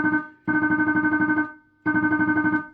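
Note from a Minikorg 700 synthesizer under repair, its repeat function switched on: a buzzy tone pulsing rapidly in two bursts about a second long, with a quieter square-wave signal under it.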